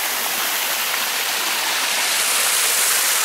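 Water from the Lalu river rushes in a steady, loud, full-bodied wash of noise that holds evenly from start to finish, with no voices over it.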